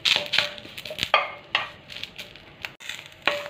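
Curry leaves roasting in a pan while being stirred, with sharp clinks of a spoon against metal at irregular intervals over a soft, faint sizzle.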